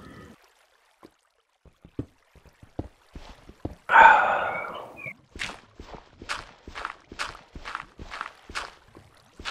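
Running footsteps of a player character in Minecraft, a regular series of quick, crisp steps following a brief louder whoosh, close and fairly clear with no talking over them.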